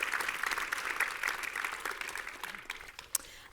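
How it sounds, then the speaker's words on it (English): An indoor audience claps steadily in welcome for a panel at a screen-industry event, the applause dense at first and then thinning out into scattered claps. "if you can give them a round of applause and a nice warm welcome"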